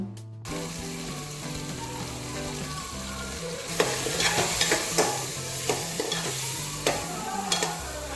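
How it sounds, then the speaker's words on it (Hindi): Tomatoes with red chilli powder, garam masala, turmeric and coriander powder being stirred and roasted in a pan, a steady sizzle with repeated scraping strokes of a spoon that grow louder and more frequent after a few seconds. "मसाले डालने के बाद इन्हें अच्छे से भूनना है जब तक टमाटर गल ना जाए।"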